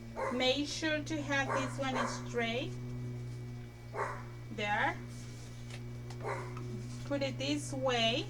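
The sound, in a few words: dogs barking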